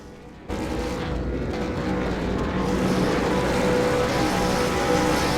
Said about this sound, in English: here we go as the revs will start to build